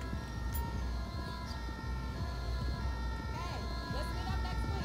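An ambulance siren wails steadily with warbling tones across the whole stretch inside the video game GTA 5, loud and continuous over a dense road and engine bed.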